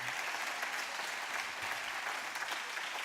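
Audience applause for Shelley Hinton, a food banker, at a Stark County campus ribbon-cutting ceremony: a steady, dense wash of clapping from a crowd that holds even throughout, with no voices over it.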